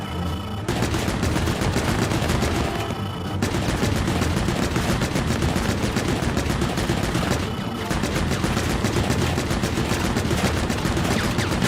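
The Man-at-Legs boss in Pikmin 4 fires its machine gun in long, loud, rapid-fire bursts, a dense rattling barrage broken by two brief pauses.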